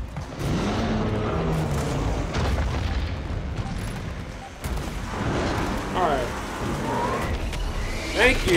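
A grenade goes off in Gears of War 4 amid rumbling battle noise, with heavy booms and gunfire crashing through the whole stretch while voices shout over the din.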